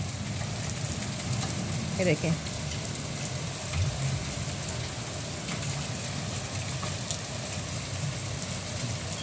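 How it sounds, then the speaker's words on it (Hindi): Steady hiss of heavy rain falling continuously, with a voice speaking briefly in Hindi-Urdu under it. "कितने ज़ोर की बारिश लगी है"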